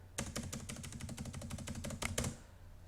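Rapid, close-up clatter of computer keyboard keys pressed in a quick, even run for about two seconds. A couple of heavier keystrokes land near the end before it goes quiet.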